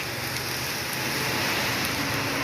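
Steady rain falls outdoors as a dense, even hiss that fills the whole stretch at close range, with no bird calls standing out.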